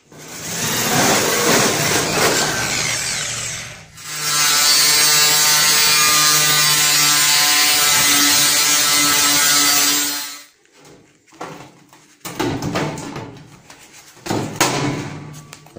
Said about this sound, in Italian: Faccio i fori con la tazza e poi trac, faccio i tagli